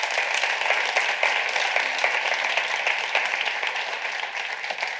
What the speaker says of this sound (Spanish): un fuerte aplauso para que se anime a venir